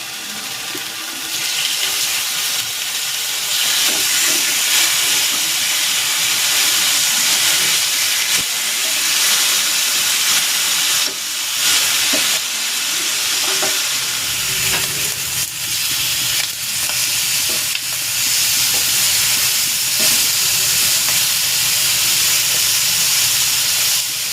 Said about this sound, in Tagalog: Maglalagay ako ng cooking oil. I-sear ko muna itong pork.